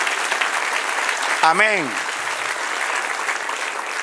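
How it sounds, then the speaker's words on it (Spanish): Church congregation applauding during a Spanish-language service, a broad steady wash of clapping throughout with a single voice briefly speaking over it. "De un aplauso al Señor."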